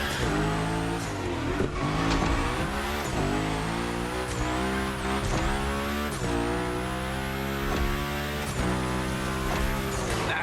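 Car drifting in The Crew Motorfest's Hoonigan gymkhana course, engine revving hard and bouncing off the limiter as tires squeal through long slides, loud and continuous with repeated gear shifts and wailing pitch sweeps.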